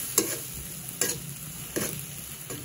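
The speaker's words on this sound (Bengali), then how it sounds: "মশলার সাথে একটু হলুদ মরিচ লবণ দিয়ে মশলাটাকে কষে নিতে হবে" A spice paste with turmeric, chili and salt is stir-fried in a pan, a steady sizzle broken by four evenly spaced scraping strokes of a spatula, close and clear.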